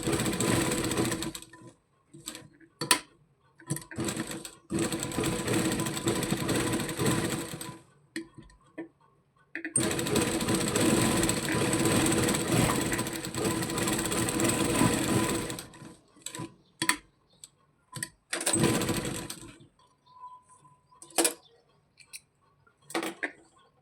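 A sewing machine runs in long stitching bursts along the edges of a baby frock's neck strip, each several seconds long and broken by pauses and short intermittent runs of the needle.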